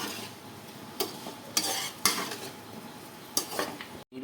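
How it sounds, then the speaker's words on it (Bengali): Sugar and mango chutney are stirred in a hot pan, with a spoon repeatedly scraping and clinking against the metal over a steady close sizzle, and no talking. "চিনিটা দিয়ে আমরা ভালো করে নাড়াচাড়া করে নিচ্ছি"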